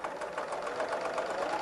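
A serger sewing machine runs steadily with a fast, even mechanical chatter, stitching a quilt seam with a 4-thread stitch. The motor hum stays close and continuous with no talk over it.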